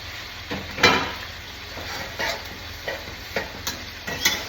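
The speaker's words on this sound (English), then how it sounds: "For 2 minutes you're going to be frying your rice" Rice for Puerto Rican-style Chinese fried rice sizzles steadily in a hot pan while a utensil scrapes and stirs it in irregular strokes, close and fairly loud.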